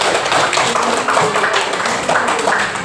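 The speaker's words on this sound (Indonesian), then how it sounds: "tepuk tanganlah untuk kita semua" Pupils in an elementary school classroom clap their hands together, a dense steady patter of many small hands filling the room at close range, loud and continuous without speech.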